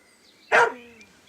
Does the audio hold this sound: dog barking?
yes